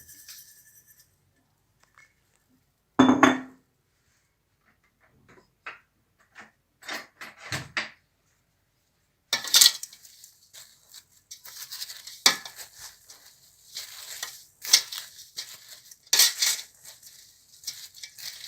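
Apricots and sugar stirred in a pot for jam: a spoon scrapes and clinks against the pot in scattered, sparse strokes at first, then busier, denser clattering toward the end, with no talking.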